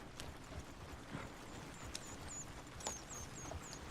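Horse hooves clip-clop at a steady walking pace in the Western video game Red Dead Redemption, fairly close, with faint background ambience and occasional high game sounds.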